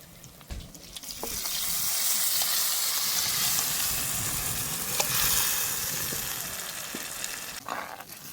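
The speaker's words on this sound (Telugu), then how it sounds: "ఇప్పుడు ముందుగా కలుపు చేసుకున్న సన్నజాప పులుసుని తిరగమాతలా పోస్తాను" Tamarind fish sauce for a small-fish curry pours into hot oil with fried tomato and onion, setting off a loud, steady sizzle that swells within the first second and holds through to the end, with no voices.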